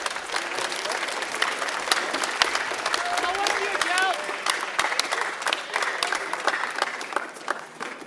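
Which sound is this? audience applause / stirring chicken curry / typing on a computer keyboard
audience applause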